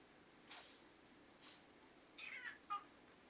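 A pet cat meows indoors on a snowy day, giving a few short, fairly faint mews spaced over a couple of seconds, the last call a quick rising chirp against a quiet room.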